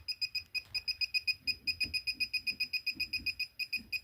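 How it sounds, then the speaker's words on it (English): A KAIWEETS KT301P digital circuit breaker finder beeps rapidly and continuously at the breaker panel, a fast steady train of sharp high electronic pips, close and alone. "it's like it's beeping out of control, like crazy."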